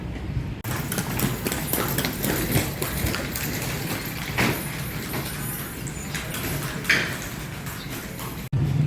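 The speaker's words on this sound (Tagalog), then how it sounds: "Masasagasaan ka na ng kabayo." Horse hooves clip-clop along a road in Ilocos, a steady, close rhythm of hoof strikes under traffic and street noise.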